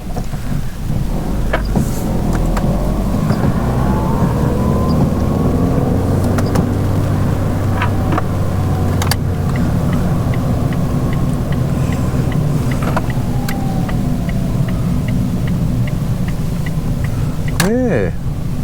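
A used Ford Fiesta bought at auction drives along the road on a test drive, a steady low engine and road rumble running throughout, with someone talking over it and brief clicks and creaks from the cabin.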